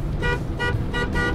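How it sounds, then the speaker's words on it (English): A 2001 Ford Excursion Limited 4x4 with a V10 sounds three quick, short honks of its horn in an even rhythm, loud and close. "Give him a little honk."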